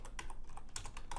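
Quick bursts of keystrokes on a computer keyboard, close and clear, tapping out a short run of characters with uneven rhythm and brief pauses.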